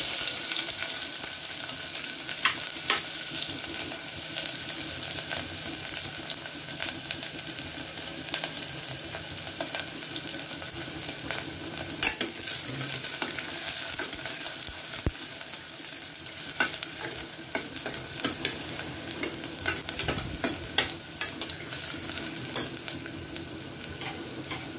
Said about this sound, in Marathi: तेल सुद्धा गरम झालेलं आहे. अर्धा कांदा घेतलाय, ठेचलेला लसूण घेतलाय.